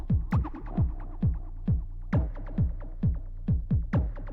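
Techno synth bass played without LFO modulation: a deep, steady droning low throb with repeating downward-sweeping plucky pulses layered over it, moderately quiet and continuous, no voices.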